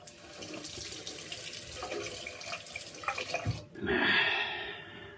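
Cold tap water runs from a faucet to wet a shaving brush, a steady splashing stream that changes tone near the end as the brush meets the flow. It is close and moderately loud, with no talking.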